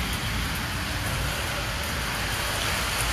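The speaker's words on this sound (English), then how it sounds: "See, raining." Steady rain falling outside, a dense continuous hiss of drops on surfaces, fairly close and unbroken, with no talk over it.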